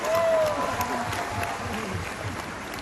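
A crowd applauds for the JWC team at a welcome gathering in Jamnagar, producing a steady wash of clapping that fades slightly over a few seconds, with voices mixed in.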